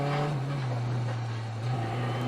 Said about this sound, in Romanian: zgomotul vibrant al motorului